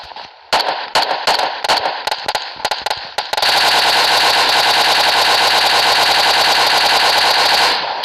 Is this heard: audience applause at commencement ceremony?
no